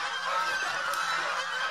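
Domestic geese kept for weeding rice paddies honk in a loud, nasal, continuous chorus at close range, with no talking.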